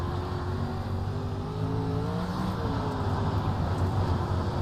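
Race car engine in a racing video game on an oval track with an infield, a steady close engine whine shifting pitch as the car revs and slows, no one talking.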